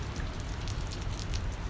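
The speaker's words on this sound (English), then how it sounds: "now that rain picked up" Steady rain falls heavily and evenly outdoors, a dense continuous hiss of drops on surfaces throughout, with no voices.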